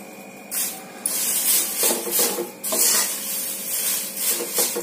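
Curry leaves are stirred and scraped around a pan over light frying heat, producing repeated rough rubbing strokes with a soft sizzle underneath, close and fairly steady.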